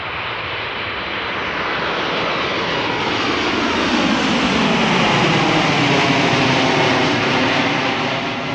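A jet airliner departing Amsterdam Schiphol Airport, a loud continuous engine roar that builds and sweeps through shifting tones as it climbs past, with no talking.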